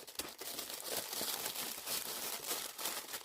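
Tissue paper crinkles and rustles continuously, close and fairly quiet, as a package is unwrapped by hand, with irregular crisp crackles throughout.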